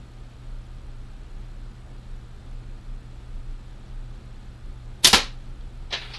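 A single sharp shot from a Scout X airgun cracks out once, sudden and loud against a steady low hum, followed about a second later by a fainter short report.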